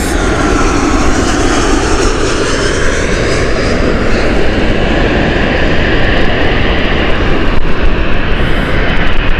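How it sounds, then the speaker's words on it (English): Turkish Airlines Boeing 737 MAX arriving at Gatwick Airport, a loud continuous engine roar and whine holding steady across the pass, close and dominant, with no talking. "Inbound next, Turkish again, this time with their 737 MAX"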